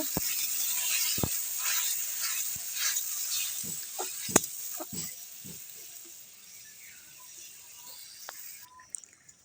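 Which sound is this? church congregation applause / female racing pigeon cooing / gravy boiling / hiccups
gravy boiling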